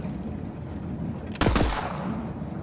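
Pistol fired in the VR shooter game Borderlands 3 VR, a quick burst of two or three sharp close shots in the middle, standing out from a quiet game background.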